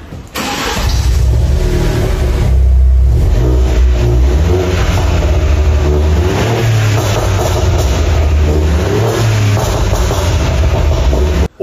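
A car engine revs hard and continuously at close range, a loud, sustained roar whose pitch swells and settles, with no talking over it.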